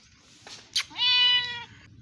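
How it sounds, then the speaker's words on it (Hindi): A small, quiet village house cat gives one clear, drawn-out meow, close and loud, after a brief soft rustle and a sharp tap, with quiet room noise around it. "ये हमारी बिल्ली है, क्वीट सी बिल्ली है"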